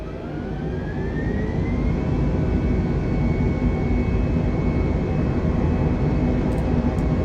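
Aircraft engines run up to full throttle for a takeoff roll in Microsoft Flight Simulator 2020, a steady loud roar with a rising whine that climbs and then holds, continuous and close with no talking.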